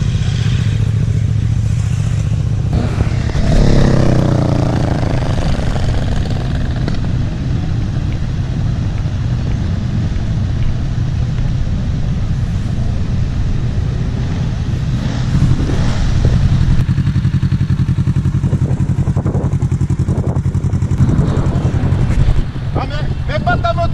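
Motorcycles on the 1001 Virages ride near Saint-Claude, engines droning loudly and steadily past a roadside stop with wind buffeting the microphone, while people talk in French over the traffic.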